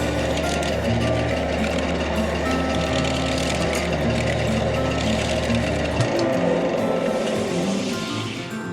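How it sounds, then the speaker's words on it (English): A woodturning lathe spins a bowl during a scraping pass, giving a loud continuous motor hum and rough scraping texture that drops in pitch near the end as the lathe slows. "I'm just gonna go do one little scraping pass"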